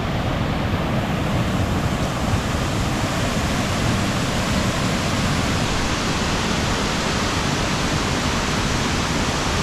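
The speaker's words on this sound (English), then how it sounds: "the waterfall is pretty cool" Wallaman Falls, Australia's highest waterfall, pours in a loud, steady, broadband roar of crashing water heard up close, unbroken and even throughout with no other sounds.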